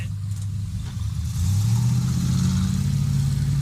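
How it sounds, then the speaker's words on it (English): Car driving off in a Napoleon Dynamite movie scene: a loud, close engine rises in pitch as it accelerates away, steady and rumbling throughout. "Instead, actor Aaron Rule improvised his reply and drove off"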